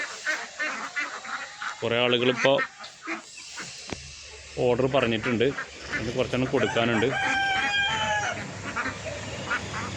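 Domestic ducks on a duck farm honk and quack loudly in repeated bursts, close by, overlapping with someone talking throughout.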